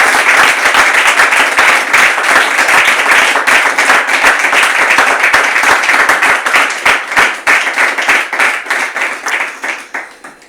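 A studio audience on a French television talk show applauds warmly, a dense, loud wash of many clapping hands that thins into scattered claps and fades out at the end.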